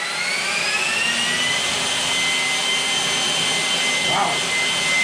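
PATOOLIO 20V battery electric leaf blower running on its turbo speed setting: a steady, loud, close whooshing roar with a high motor whine, continuous throughout with a brief fluctuation near the end.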